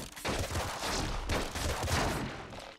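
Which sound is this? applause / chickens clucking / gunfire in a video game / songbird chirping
gunfire in a video game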